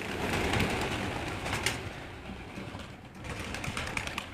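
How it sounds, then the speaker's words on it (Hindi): Racing pigeons flutter and coo as they are let out of their cages, with wingbeats and soft bird calls close by in a busy outdoor setting. "तो ये अब वो कबूतरों को बाहर निकाल रहे हैं।"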